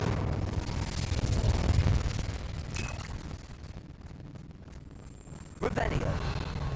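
The Incendio fire spell is cast in Hogwarts Legacy with a loud, roaring blast that rumbles steadily, fades in the middle, then flares again with a sharp whoosh near the end.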